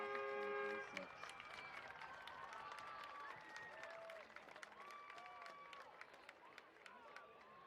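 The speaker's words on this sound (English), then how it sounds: "please give one more round of applause for the senior class of 2026" Crowd applause and cheering for a senior class at a school sports event, a faint steady wash of clapping under a tonal announcement or music, with sparse sharper claps throughout.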